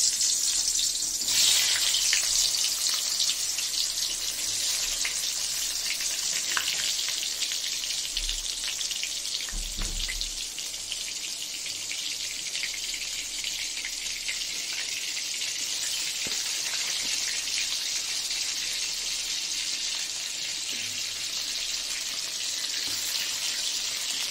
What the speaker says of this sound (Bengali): আমার বেগুনগুলো ভাজা হচ্ছে, ভাজা এখনও হয়নি